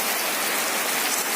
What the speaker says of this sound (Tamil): இங்கே பாருங்க, மழை வந்துருச்சு. சரியான மழை.